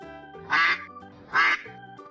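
Two loud, close duck quacks, evenly spaced, standing alone in a children's reading lesson.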